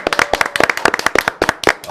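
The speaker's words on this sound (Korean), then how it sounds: "박수 소리 오늘 크네요" Brisk applause from a very small live studio audience of a broadcast programme, a series of sharp, separate hand claps in quick uneven rhythm, close and loud, with no voices.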